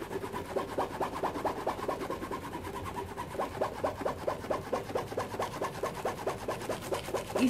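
Rhythmic hand rubbing over paper laid on canvas to transfer a design, a soft scratchy stroke repeating steadily back and forth, close and fairly quiet, with no talking.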